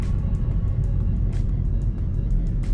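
A steady low engine rumble fills the interior of a Ford Focus, constant and fairly loud, with faint periodic ticks riding over the drone.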